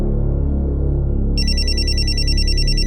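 A phone rings with a bright, repeating electronic tone that begins partway in, over a low steady hum.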